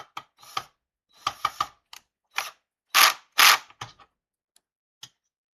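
Screws are driven tight into a compact Ryzen 5 PC case during a build, giving scattered sharp ratcheting clicks and short metallic rasps with pauses between, close and fairly loud.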